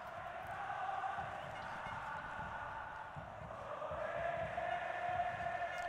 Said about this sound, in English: Terrific noise, as you'd expect from this crowd.